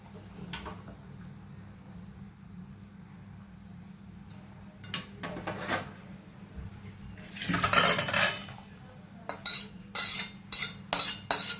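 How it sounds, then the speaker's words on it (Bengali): Cooked chana dal fritter curry being poured and scraped into a bowl, with a run of sharp metal-on-metal clinks and scrapes of a spoon against the pan, loudest and most rapid toward the end, with no talk. "আমি এবার একটা পাত্রে ঢেলে নেব।"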